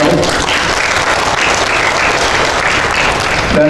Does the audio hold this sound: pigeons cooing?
no